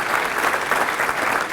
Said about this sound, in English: How about a big round of applause for Dr.